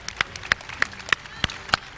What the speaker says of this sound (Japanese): また大きな拍手をお願いします。